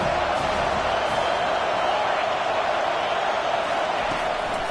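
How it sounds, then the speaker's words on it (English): Stadium crowd noise swells steadily in an NCAA college football video game as fans get loud behind the defense on third down, a dense, continuous roar filling the space without a break. "Decibels rising as the crowd gets behind this defense on third down."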